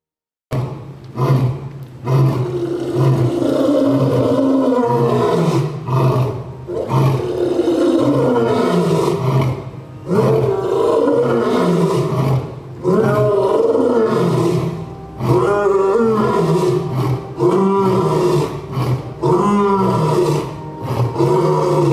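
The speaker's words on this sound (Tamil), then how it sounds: "அரிதான ஜெனடிக் மியூட்டேஷன் ஆன வெள்ளை சிங்கம் தென்னாப்பிரிக்காவில் மட்டும்தான் உள்ளது." A white lion roars continuously for about twenty seconds: deep, powerful, loud roars up close, rising and falling in repeated waves with brief pauses, and no talking.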